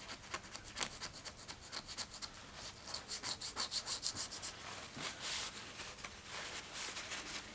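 Steady scraping and rubbing as carbon deposits, softened by a WD-40 soak, are worked off a Harley-Davidson Sportster engine part, a close, continuous gritty rasp with uneven strokes and no talk.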